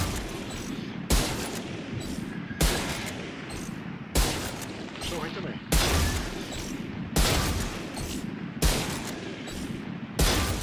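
Weapons being tested in a shooter video game by the same player, firing repeated loud bursts at regular intervals about every second and a half, with a voice speaking briefly.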